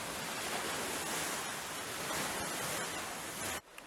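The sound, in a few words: stormy sea waves and wind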